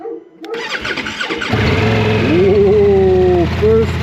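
A Ducati Multistrada V4 Rally motorcycle engine cranks and fires up close by, then settles into a loud, rumbling idle with a rising whine.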